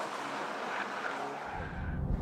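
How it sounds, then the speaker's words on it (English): A Subaru BRZ's small flat-four engine revving hard on a winding road, a steady loud drone with road and tyre noise, rising slightly toward the end. "The little flat 4 has to be kept revving fairly hard to get you through these roads"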